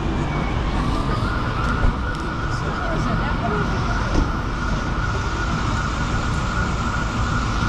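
Emergency sirens from ambulances and police cars wail steadily along a busy New York street, a sustained tone over dense traffic rumble and city noise without clear breaks.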